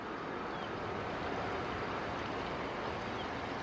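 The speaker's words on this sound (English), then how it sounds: "And see, there's flowing water." Steady broadband rush of flowing water in a wetlands stream along the Las Vegas Wash, continuous and fairly close, with no voices or other distinct sounds.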